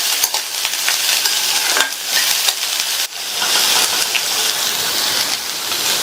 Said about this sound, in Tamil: பொடியாக கட் பண்ண 200 கிராம் பீன்ஸ் எண்ணெயிலேயே 2 நிமிஷத்துக்கு ஹை ஃப்ளேமில் வச்சு வதக்கிக்கலாம்